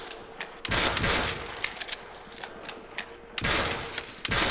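Shotgun blasts in a Call of Duty: World at War zombie realism mod: a few loud, separated shots with mechanical clicks and clatter between them, heard up close with no talking.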